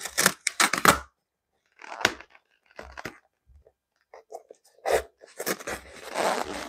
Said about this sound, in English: when I pull the tape off